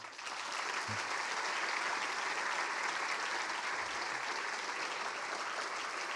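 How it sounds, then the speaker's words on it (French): Audience members at a school graduation ceremony applaud steadily, a dense and even wash of clapping from a crowded hall that holds at the same level throughout. "Vous pouvez les applaudir"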